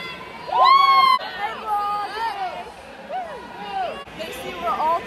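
Spectators at a sports event cheer for a player, with loud whooping shouts and excited calls rising and falling over crowd chatter nearby, voices overlapping throughout.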